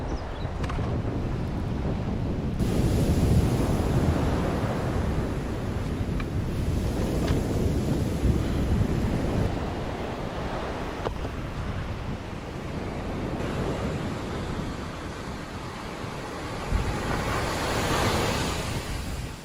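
Ocean surf rolls and washes steadily onto an island shore, a continuous loud roar of breaking waves with gusts of wind noise across the microphone and no voices.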